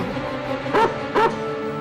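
Dog giving two short, close barks about half a second apart over a steady background hum.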